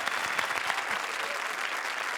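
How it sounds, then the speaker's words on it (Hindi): A studio audience at a comedy show applauds, a steady, continuous wash of many hands clapping throughout, moderately loud with no distinct voices. "जोरदार तालियां"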